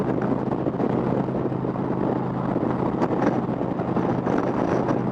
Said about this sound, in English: Oh, that wind's just gonna push me around a bit.